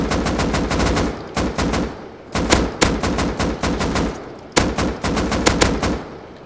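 AK assault rifle fire in the game Rust, several rapid automatic bursts of sharp close shots separated by short pauses, loud and dominant with no talk over them.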